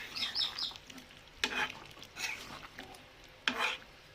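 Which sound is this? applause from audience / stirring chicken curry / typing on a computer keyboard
stirring chicken curry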